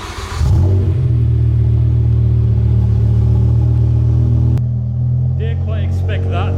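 BMW E60 M5 V10 with an Eisenmann race exhaust firing up with a sharp bark, then settling into a loud, deep, steady rumbling idle close by, with a person talking briefly near the end.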